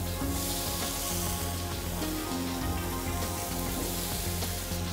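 Tomatoes frying in a pan as the base for stuffed squid, a loud, steady close sizzle that fills the whole stretch without a break, no talking.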